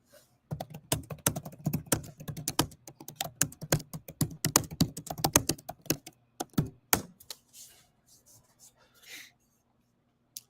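Rapid bursts of clicking keystrokes on a computer keyboard, close and crisp, settling into a few scattered taps toward the end.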